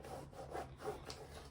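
Faint, rhythmic brush strokes scrubbing shoes clean, a soft repeated rubbing swish close by, with no speech.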